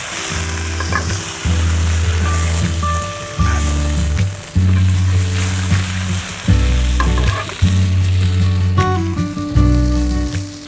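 Pomfret fish fries in a shallow pan over low heat, a loud continuous close sizzle and crackle with repeated bursts of spitting oil, no voices.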